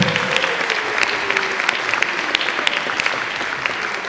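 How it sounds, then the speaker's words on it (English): A Unitarian church congregation in Providence gives a Sunday-service round of applause: a steady, dense wash of many hands clapping at once, loud and sustained throughout with no talking over it. "Let's do a round of applause while Jen's making her way"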